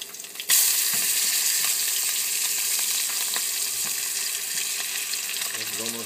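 Tilapia pan-sears in hot oil over medium heat, a loud sudden burst of sizzling that settles into a steady close crackling hiss with faint spatters.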